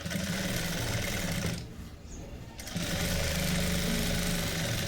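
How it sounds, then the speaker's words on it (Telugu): A sewing machine stitches along a blouse sleeve with a loud, steady motor whir. It stops briefly in the middle, then starts again and keeps running. "ఇలా మనం స్టిచ్చింగ్ చేసేసుకోవాలి."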